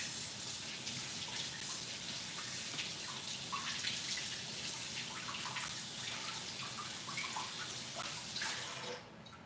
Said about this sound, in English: I'm going to wash all of this.